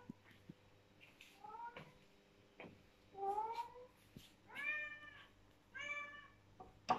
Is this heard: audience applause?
no